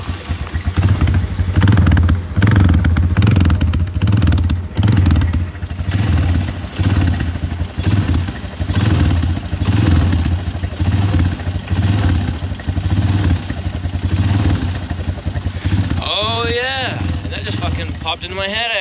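A 2003 Honda Recon 250 ATV with a brand-new motor idles close by while warming up cold, a loud steady low putter with slight throttle fluctuations, and a voice speaks briefly near the end.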